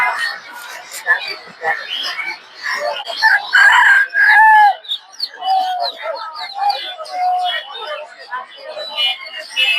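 Native chickens at a market cluck and squawk close by, with one drawn-out crow in the middle, while people talk loudly over and around the birds.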